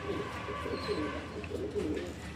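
Blue bar Lahori pigeons cooing close by, a pair of soft rolling throaty coos repeating in a gentle rhythm over a faint background murmur.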